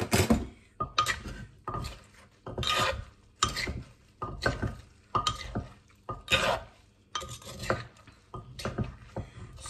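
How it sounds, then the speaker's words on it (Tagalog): Mango salad with shallots tossed in Thai sauce in a bowl, a rhythmic series of wet, rubbing scrapes of the spoon in regular bursts, close and clear with quiet gaps between, no talking. "So, mix na lang natin ito dito sa loob."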